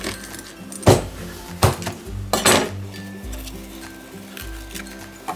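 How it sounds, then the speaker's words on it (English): A Ninja Foodi pressure cooker lid is set back in place, making several close metallic clanks and clinks against the pot, a sharp one at the start and a louder pair midway, over low background hum. "Lid back on and give it another 7 minutes on high pressure."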